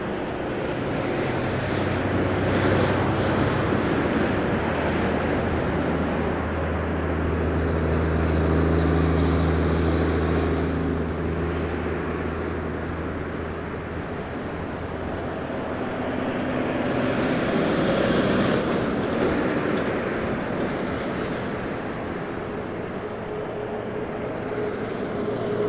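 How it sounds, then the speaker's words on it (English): An Airbus A220 airliner lands in a slight crosswind, its engine roar loud and steady throughout with a rising whine, and no voices are heard. "As the A220 comes in, slight crosswind it seems, a bit of a crab."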